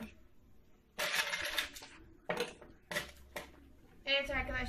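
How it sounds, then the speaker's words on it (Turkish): Ice cubes clink and clatter as they drop into a glass for a homemade Starbucks-style lemonade, a few sharp bright knocks in separate bursts. "Son bir tane ekliyorum."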